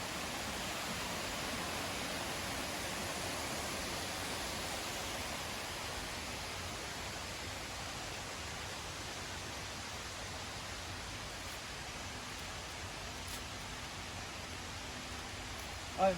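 A waterfall and water features in a resort garden ravine give a soft, steady rushing hiss from a moderate distance, unchanging throughout.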